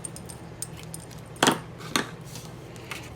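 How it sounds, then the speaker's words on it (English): Scissors snip ribbon on a papercraft table, two short sharp cuts close by against a quiet background. "Snip it off."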